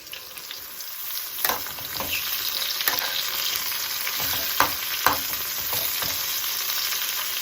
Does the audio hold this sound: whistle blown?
no